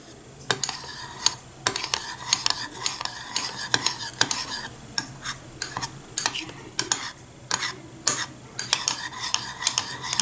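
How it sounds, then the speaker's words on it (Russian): A milk and cocoa mixture is stirred in a saucepan to smooth out lumps, with steady scraping and clinking of a spoon against the pan and a faint sizzle underneath, loud and close throughout. "вот сейчас я размешиваю, чтобы не было комочков"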